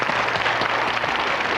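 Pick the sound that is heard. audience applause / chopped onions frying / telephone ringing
audience applause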